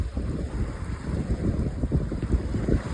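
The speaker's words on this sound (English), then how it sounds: "This is sailing." A sailboat beats upwind at about six knots, close to the wind, with a steady rushing roar of wind and water, low and rumbling, close and continuous with no voices.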